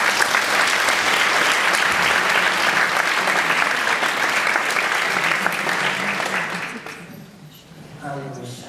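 A live audience claps to welcome an author on stage at a reading event in Göttingen: dense, steady applause for about seven seconds that then fades out, with a voice starting to speak at the end.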